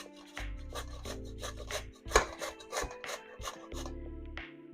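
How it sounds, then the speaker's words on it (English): Peeled potatoes are rubbed against a grater straight into a pan, a rhythmic series of close, rasping strokes with a sharper scrape near the middle, no talk. "We're grating it straight into the pan and it comes out like that."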